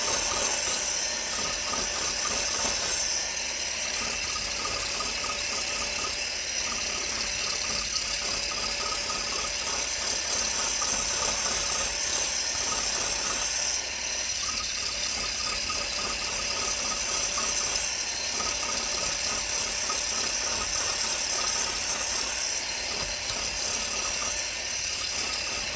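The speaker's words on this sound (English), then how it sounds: "That is a different scraper I'm using this time." Biax 7ELM power scraper working a metal surface, a fast continuous mechanical chatter and buzz with steady rhythmic strokes, close and even in level throughout.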